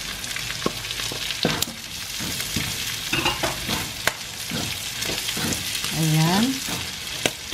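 Carrots fry in a pan for Igado Ilocano and are stirred with a spatula, a loud steady sizzle broken by repeated scraping strokes and knocks, with a brief spoken word and a short tonal sound late on.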